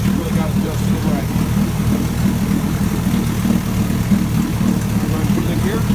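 A 1965 Evinrude 9.5 HP outboard motor runs steadily just after a cold start, with a low, even idling drone throughout.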